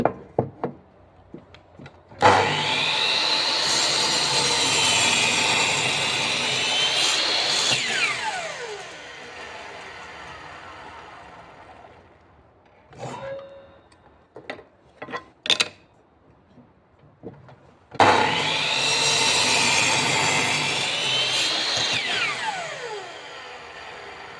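A power saw with a Makita, DeWalt or Metabo blade whines through wood in two long crosscutting passes, loud and close, with a few short knocks and handling sounds between them.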